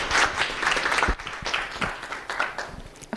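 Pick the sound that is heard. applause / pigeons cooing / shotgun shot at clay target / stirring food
applause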